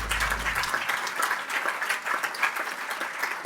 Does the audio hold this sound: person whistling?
no